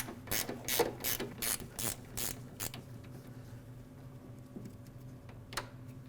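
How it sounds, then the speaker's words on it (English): A hand wrench ratchets rapidly in a run of sharp clicks while loosening a 10mm headlight screw behind the grille of a 2009-2010 Dodge Ram 1500, then falls quiet, with one last faint click near the end. "Remove it with a wrench."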